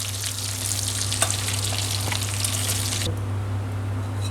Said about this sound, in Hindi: देखिए हो गया इस तरह से फ्राई हो गया